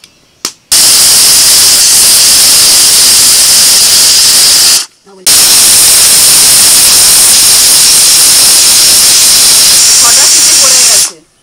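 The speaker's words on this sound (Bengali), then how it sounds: "প্রেসার কুকারের মধ্যে সব হাওয়াটা বের করে দিলাম।" A loud, harsh rush of steam blasts from a pressure cooker of mutton and potatoes in two long bursts separated by a brief pause, roaring close and steady.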